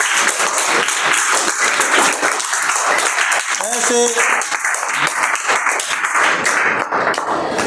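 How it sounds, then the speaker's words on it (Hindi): A classroom of children claps for a classmate in a loud, sustained round of dense applause that runs throughout, with a few voices speaking over it. "ताली दो बच्चे के लिए भाई।"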